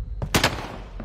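Bursts of video game gunfire, a few loud broadband blasts close together near the start, then a fading rumbling tail.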